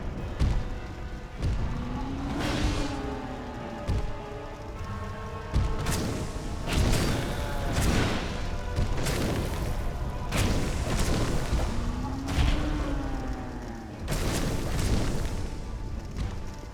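Explosions from the video game Dark Souls 2 boom again and again through a dense, loud stretch, with heavy thuds arriving in an irregular rhythm.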